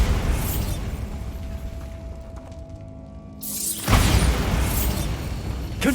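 Bombarda blasting spell from Hogwarts Legacy going off as a loud booming explosion with crackling debris, a quieter stretch in the middle, then a second heavy burst near the end; no talk.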